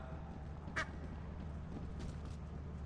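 A duck item in the video game Lethal Company gives one short, bright quack near the start, standing out over a steady low background hum.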